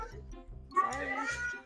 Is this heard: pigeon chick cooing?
no